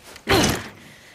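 A jammed door forced open in the game Days Gone, heard as a single close, heavy thump with a short rattling scrape that quickly fades.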